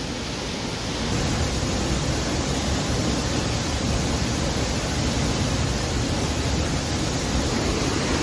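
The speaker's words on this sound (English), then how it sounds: "That there, Clark, is a waterfall." A full river waterfall in the Pacific Northwest wilderness pours steadily with a loud, dense, unbroken roar that fills the whole stretch and does not change. No one speaks over it.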